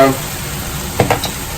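Soaked split urad dal (black lentils) sizzles faintly in a pan with spices, with a couple of brief stirring scrapes and clatters near the end over a low steady frying hiss.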